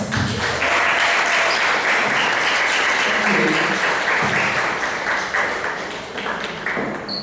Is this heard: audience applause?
yes